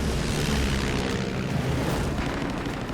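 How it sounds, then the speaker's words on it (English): Dense, roaring drone of a WWII Wildcat fighter's propeller engine chasing Japanese Val dive bombers near Guadalcanal, a loud continuous rumble that swells slightly midway and holds throughout without a break. "Marine Lieutenant James Swett pursues 3 Japanese Val dive bombers"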